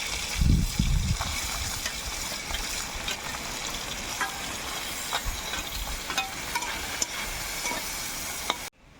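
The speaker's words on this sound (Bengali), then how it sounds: "বাকি মাছগুলো ভাজতে দিয়ে দেবো। আর এই মাছগুলো একটু কড়া করেই ভাজতে হয় সব সময়" Fish frying crisp in hot oil in a wok gives a steady, close sizzle with occasional stirring scrapes and pops throughout, with no speech.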